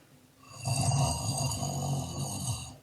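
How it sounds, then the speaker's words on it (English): A cartoon snore of Numberblock 54 from an animated kids' show, one long, loud, droning inhaled snore with a buzzy, nasal tone, lasting about two seconds and heard alone. "80's Hoyu snore gets replaced with number block 54's snore"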